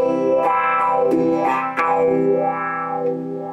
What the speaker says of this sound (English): The filter effect